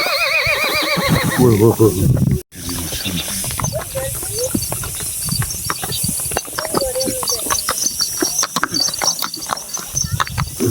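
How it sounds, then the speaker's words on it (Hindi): A horse neighs loudly up close at the start of a ride in Muzaffarabad, Kashmir, followed by ongoing outdoor clatter and hoof-like clopping, with a person talking over it. "ज़बरदस्त घुड़सवारी।"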